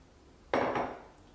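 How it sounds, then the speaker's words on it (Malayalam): A mixing bowl is lifted and set down on a kitchen counter while making puri dough, giving one close, fairly loud clunk that trails off into a brief ringing rattle. "ഇത് കുഴച്ചെടുക്കാൻ വേണ്ടിയിട്ട് ഒരു പാത്രം എടുക്കുക."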